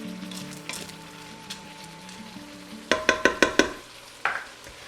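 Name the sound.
stirring American goulash ingredients in a pressure cooker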